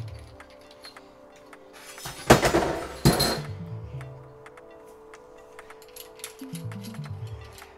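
Metal malt pipe parts from a home brewing system being taken apart by hand, with a couple of loud clinking, rattling bursts of metal on metal close by, then quieter small knocks and handling.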